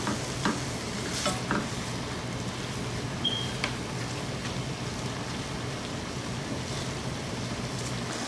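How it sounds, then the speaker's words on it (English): Minced keema sizzles steadily in a pan, a constant close frying hiss with occasional scraping stirs, and no voices. "We will let it cook probably couple of minutes like that, and then until that all moistures come out from the keema"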